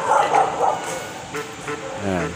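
Dogs barking and yipping during a night neighborhood patrol, a few short barks close by with faint voices underneath.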